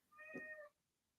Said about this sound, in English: Oh my gosh, I can hear a kitty.